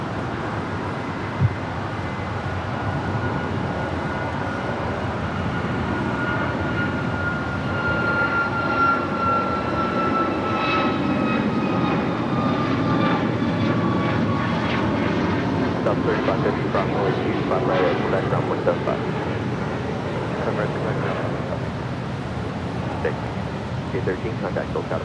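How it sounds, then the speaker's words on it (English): Air Premia Boeing 787-9 Dreamliner jet turning onto a taxiway at LAX, a steady broad engine roar with a rising whine, fairly close and sustained throughout, with a voice talking over it. "That was Air Premia making the left-hand turn onto taxiway Lima. Flight 101 coming in from Seoul in the 787-9 Dreamliner."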